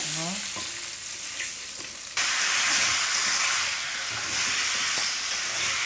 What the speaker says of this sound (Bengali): যে সব মশলা দিয়ে কুমড়োটা ভেজে নিচ্ছে